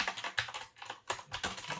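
An aging Logitech G710 keyboard typed on in bursts of close key clicks and clacks, with brief pauses between groups of strokes and no talk.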